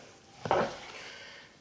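A knife slicing through a raw beef tenderloin steak on a cutting board: a single short cut with a soft thud and brief scrape, fairly close, in a quiet room.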